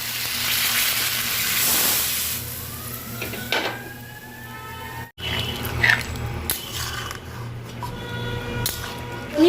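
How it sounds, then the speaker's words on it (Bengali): Water poured into a pan of potato and paneer posto curry cooking in a little oil, a close, steady hiss and sizzle with bubbling, one brief dropout midway and short bursts near the end. "এরপর জল অ্যাড করব।"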